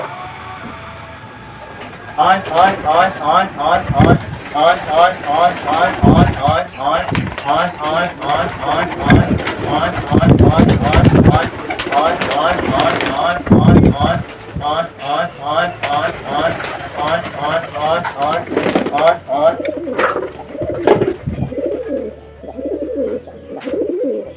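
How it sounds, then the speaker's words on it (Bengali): Pet pigeons coo repeatedly at close range while being fed, a dense throaty burbling that runs throughout with a steady mechanical hum beneath. "চলো বাইরে গিয়ে সব কটা পায়রাকে খেতে দিয়ে দিই দেখো সব কটা বসে আছে"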